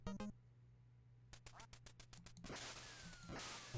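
Retro 8-bit quacking from a duck in the NES game Duck Hunt, a quick burst of beeping game tones followed by noisy flapping and chirpy calls, loud and close with no talking.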